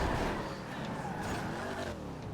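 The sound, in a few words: cars driving, from a video game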